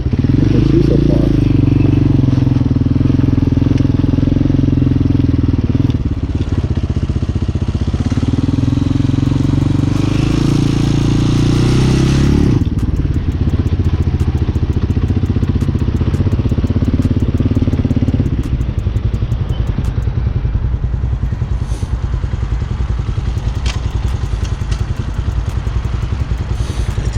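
A Honda Hawk 250cc dual sport motorcycle rides through city streets, its engine droning loud and close throughout with rising and falling pitch as it accelerates and eases off, under steady wind rush.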